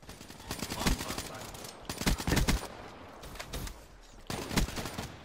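Rapid automatic gunfire in a Call of Duty match, sharp bursts clustered in several volleys with short gaps, loud and close over a busy game soundscape.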